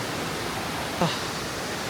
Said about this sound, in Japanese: おお、来ました、瓜生の滝。